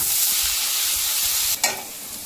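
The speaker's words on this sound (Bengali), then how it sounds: "আলুটা ভাজা ভাজা হয়ে এসেছে," Chopped potatoes frying with onions in hot oil, a loud, dense, continuous sizzle close up, with one brief clatter of a utensil.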